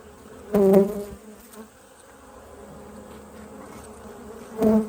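Honeybees buzz at a low, steady level inside a sparsely populated hive with brood and eggs, with a couple of brief louder swells of droning near the start and end.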